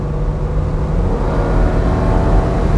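A 1964 Mercedes 230 SL Pagode in original condition, its engine droning steadily under load as the car accelerates, a close, continuous low rumble that builds slightly toward the end.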